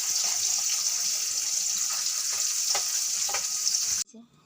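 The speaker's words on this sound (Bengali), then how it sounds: "মাছ ভাজা হচ্ছে।" Fish frying in a pan in a small home kitchen, a loud steady sizzle with a few stirring clicks, ending abruptly into near silence.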